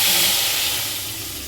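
A milk, ginger and fennel paste mixture poured into hot mustard oil sets off a loud, bright steamy hiss that fades gradually over a second and a half, with no one speaking.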